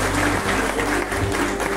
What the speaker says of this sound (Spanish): Fuertes los aplausos para nuestros jóvenes egresados.